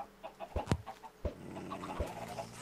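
A Minecraft chicken clucks in a few short, quiet bursts, with soft game ambience and faint clicks between the calls.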